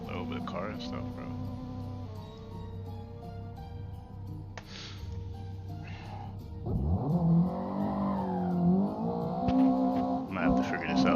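Race car engine revving in the Assetto Corsa racing game, a steady drone that rises into a louder surging rev partway through, playing continuously beneath someone talking.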